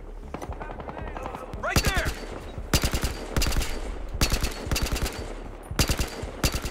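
Gunfire in the Battlefield Hardline multiplayer game on PS3: repeated sharp bursts of automatic rifle fire in quick clusters, loud and close, with a player talking between and under the shots.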